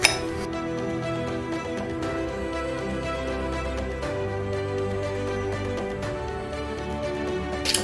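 Dressing ingredients are mixed for a creamy Italian Caesar dressing, with light clinks of a utensil against a bowl ringing out amid a steady, continuous background.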